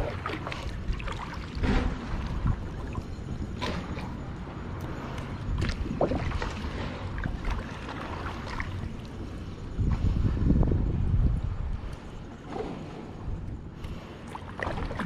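Paddling a small boat on open water on a commute home, soft rhythmic paddle strokes and gentle splashes with light wind noise, steady and fairly faint throughout, no talking.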